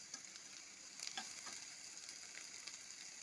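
Onions and slit green chillies frying in a pan give a quiet, steady sizzle, with soft stirring scrapes now and then and no talk.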